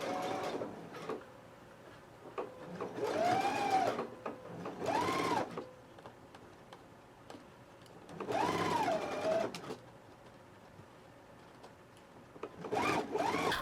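A sewing machine stitches a waistband onto a gathered skirt at a 5/8 inch seam allowance, running in several bursts of rising and falling motor whir separated by quieter pauses, fairly close and alone.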